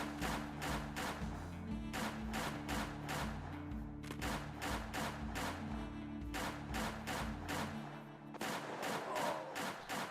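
Rapid video game gunfire from a western shooter platformer, loud repeated bursts of shots in a steady rhythm over a low looping music track.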